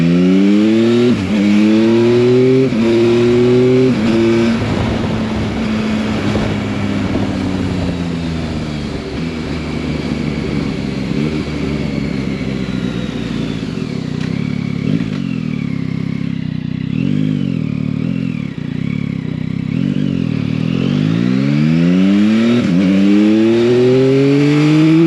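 Yamaha Tracer 9 GT motorcycle engine pulling hard through the gears on a test ride, loud and close, its note climbing and dropping with each shift, with steady wind rush and no talk.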